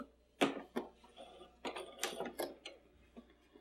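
Household sewing machine stitching at a medium 2.5 stitch length, a short run of quiet mechanical clicks and ticks in uneven bursts, close and fairly faint with no talking.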